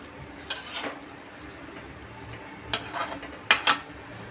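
Jackfruit curry frying with spices in a pan on medium heat, with a low sizzle underneath and a few sharp clinks and scrapes of a spoon stirring against the pan in short bursts.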